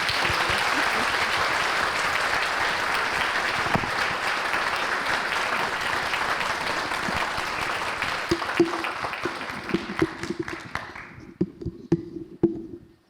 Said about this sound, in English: Please give Dr. Etzel a round of applause.